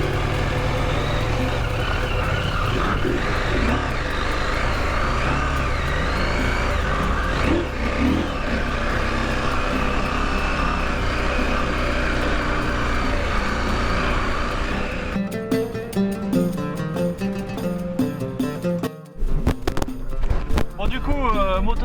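A pickup truck carrying a motorbike on its roof drives along a sandy desert track in Morocco, its engine droning steadily and close, then rumbling and rattling over rough ground with talk inside the cab.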